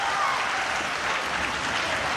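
Crowd at a Wildkat Sports heavyweight championship wrestling match cheers and applauds steadily, a dense, loud wash of clapping and voices filling the hall throughout.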